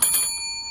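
A single bright bell ding marks a lottery scratch-ticket win, ringing out sharply and then fading over a moment with no voices.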